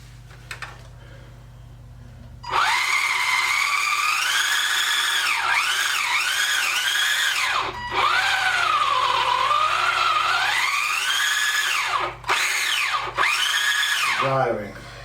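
A WLToys 124301 RC military truck drives with a loud, high electric motor whine that rises and falls as the throttle changes, with a few short pauses and quiet moments before it starts.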